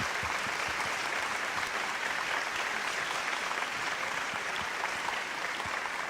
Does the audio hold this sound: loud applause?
yes